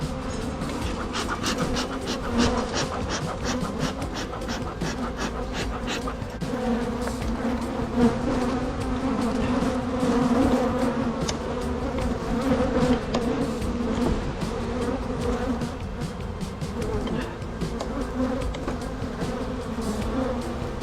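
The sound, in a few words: agitated honey bees buzzing at opened beehive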